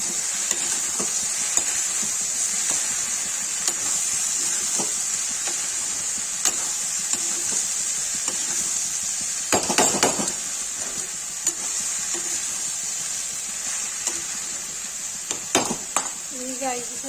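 Okra fries with turmeric and red chilli in a pan, giving a steady close sizzle and hiss, broken by scraping stirs and a louder clatter near the middle, while a person talks at times.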